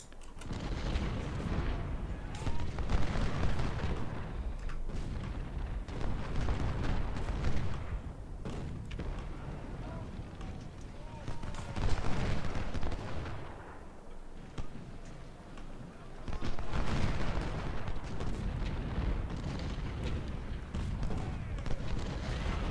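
Repeated cannon and artillery booms from a Civil War battle in a strategy game, heavy blasts and crackling musket-like gunfire rolling continuously and loudly through the scene, with no speech over it.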